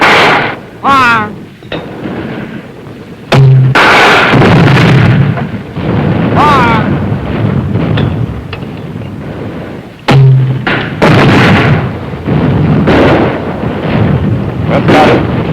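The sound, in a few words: supporting artillery fire during a rifle platoon attack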